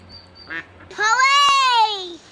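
After being rescued from a pool, a duckling gives a single loud, drawn-out quacking call up close, preceded by a couple of faint short chirps in a quiet outdoor setting.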